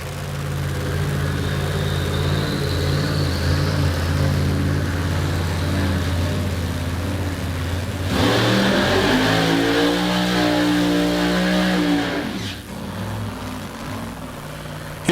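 A supercharged Ford Mustang drag racing car at a drag strip idles with a loud, steady rumble, then revs hard, its engine note climbing and wavering before cutting off sharply near the end.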